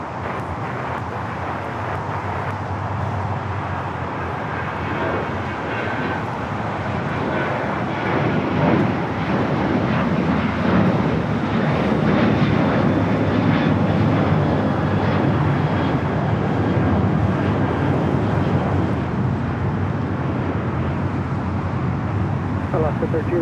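An airliner takes off from runway 25 Right at Los Angeles International Airport, a loud, sustained roar of jet engines that swells through the middle, with voices talking over it.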